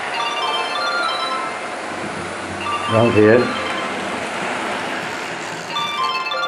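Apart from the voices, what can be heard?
mobile phone ringing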